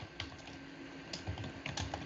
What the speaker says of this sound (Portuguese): Onde você tá digitando? No chat.